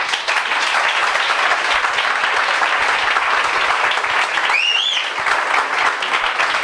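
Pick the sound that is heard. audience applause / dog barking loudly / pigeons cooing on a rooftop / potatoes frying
audience applause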